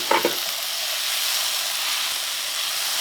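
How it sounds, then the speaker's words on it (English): Pork, bamboo shoots and green onions sizzling in a hot stir fry, a loud continuous frying hiss that stays steady throughout, with a brief clatter of stirring at the start. "we're going to stir fry for 1 more minute"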